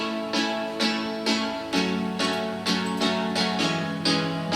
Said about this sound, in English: I layered the chords like a bunch, five layers, and they sound like this